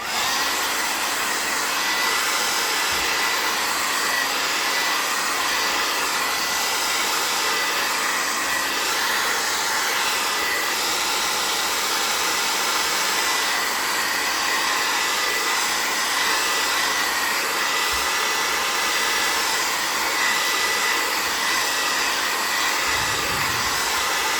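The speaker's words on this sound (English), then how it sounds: "let me just blow dry this quickly" A hair dryer runs continuously at close range, blow-drying glued wallpaper in an art journal, a steady loud whooshing roar with a faint hum beneath and no talking.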